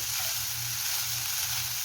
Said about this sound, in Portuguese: E conforme for fritando aqui, a gente vai só mexendo